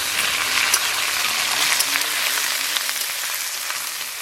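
Ginger paste sizzles steadily in hot oil in a frying pan, a dense, bright crackle that holds loud and even throughout with no voices over it.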